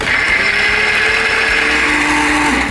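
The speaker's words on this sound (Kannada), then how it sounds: "ಇವತ್ತು ನಾವು ನಮ್ಮ ರೆಸಿಪಿಗೆ ಬಳಸ್ತಾ ಇದ್ದೀವಿ ಬೋರೋಸಿಲ್ ಅವರ ಸ್ಮಾರ್ಟ್ ಅಂಡ್ ಪವರ್ಫುಲ್ ಮಿಕ್ಸಿಯನ್ನ" A Borosil mixer grinder runs at full speed with a steady, loud high-pitched whine and motor hum, alone and continuous throughout.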